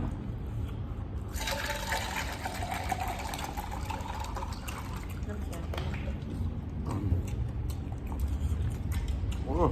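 Cold water pours and splashes steadily during a spicy seafood tam som meal, a close rushing, gurgling stream with people talking over it.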